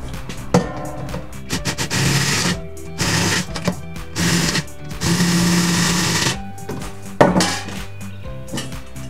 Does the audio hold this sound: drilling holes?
yes